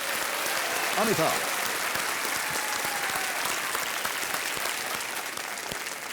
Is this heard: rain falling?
no